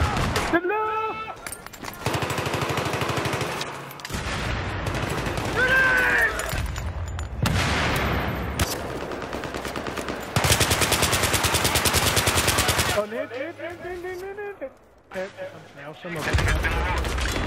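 Rapid automatic gunfire from the video game Battlefield 3, loud bursts and sustained volleys that rise and fall with pauses, layered over music and busy battle noise.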